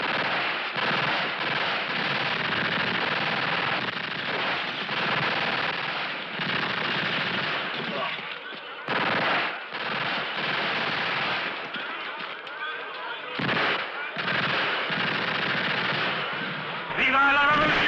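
Rapid, sustained gunfire in a spaghetti western, loud dense bursts rattling almost continuously with brief gaps, with voices under and between the volleys.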